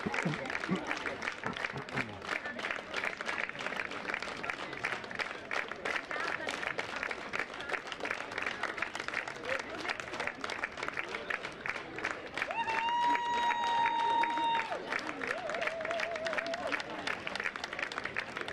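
Baseball fans at a European Baseball Champions Cup game between Amsterdam and Parma applaud and cheer steadily as a dense, continuous crowd wash, with a brief tonal whistle-like sound partway through.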